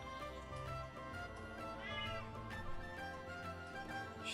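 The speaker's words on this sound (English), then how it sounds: "She's meowing at me like nobody's business there." A house cat meows indoors, giving a fairly quiet, drawn-out cry against a steady background of music or game sound, with no talking.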